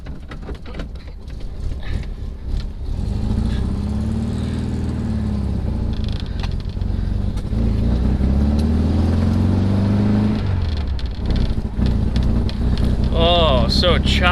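Cold air-cooled VW engine with no choke starting and idling choppily, a close uneven rumble with throttle blips, while someone talks over it throughout.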